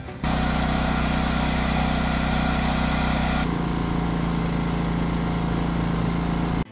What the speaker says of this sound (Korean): 이번에는 동급 발전기와 소음을 비교해 봤는데요. 확실히 더 조용하네요.